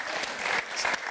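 Brief burst of audience applause for composer Christopher Willis, dense clapping from a crowd with a few sharper individual claps standing out.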